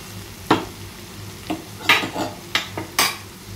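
Spinach with turmeric and spices stirred in a frying pan, several distinct scraping strokes spaced about half a second to a second apart over a soft sizzle, close and clear with no speech.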